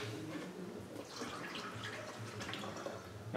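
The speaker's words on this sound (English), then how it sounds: "Let's pour a little more of this water out." Water is poured out of a two-stroke engine case during a workshop compression check, producing a continuous close trickling and splashing that runs steadily for several seconds.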